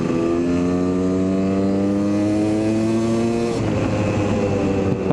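A Kawasaki KDX250 dirt bike with a new motor revs gently on the throttle, a loud, close, buzzing engine drone that holds steady, then dips and roughens briefly before picking back up. No talking.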